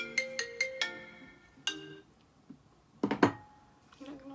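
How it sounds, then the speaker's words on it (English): A phone ringtone plays a bright, melodic run of repeated chime tones that pause briefly, then a short burst of voices breaks in before the ringtone resumes faintly. "You're not gonna answer the phone, Tom?"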